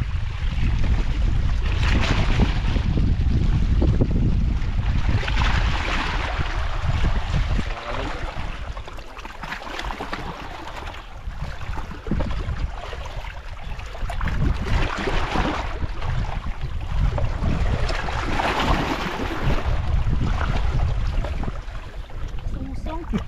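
Strong wind roars over the sea around a small fishing boat, a loud continuous rushing that swells and eases in gusts, with occasional voices under it.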